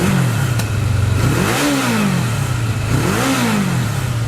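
A Kawasaki KZ550 motorcycle engine, running again after carburetor float trouble, revs up and settles twice in a loud, close, steady drone with no talking.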